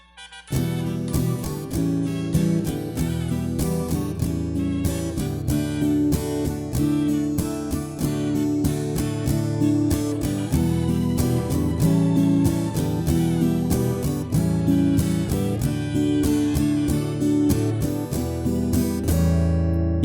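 Continuous rhythmic strumming of chords on an acoustic guitar, steady and evenly paced, played alone without any voices.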